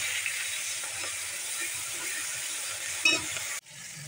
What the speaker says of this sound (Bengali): মশলাটা একটু ভাজা ভাজা হয়ে গেছে।